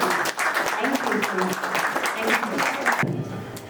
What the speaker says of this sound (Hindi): तो आप लोग सबके लिए फिर से एक बार बहुत ज़ोरदार तालियां हम लोग ने आप लोगों के लिए